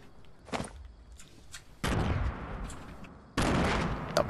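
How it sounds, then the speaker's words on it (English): Grenades exploding in a shooter video game: a small early pop, then two loud close blasts about a second and a half apart, each with a sustained rumbling tail. "I'm gonna lob some grenades their way."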